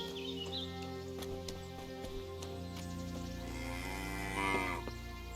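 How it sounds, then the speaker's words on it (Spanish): A cow lows in the medieval game Kingdom Come, a long, drawn-out moo rising and swelling toward the end, moderately distant over a soft ambient hum with faint bird chirps. "Una vaca."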